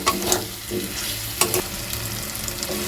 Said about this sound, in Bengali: আলুর টুকরো দেওয়ার পর আরও দু থেকে তিন মিনিট সমস্ত উপকরণগুলো খুব ভালো করে আমি কষিয়ে নেব